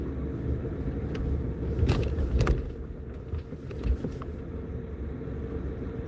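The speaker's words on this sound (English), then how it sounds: "Look at that school bus out here today." A school bus drives by outside, a steady low engine rumble that swells briefly as it passes close, with some faint rattling on top and no voices.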